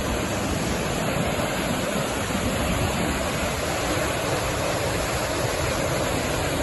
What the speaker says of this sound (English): Now that's a river.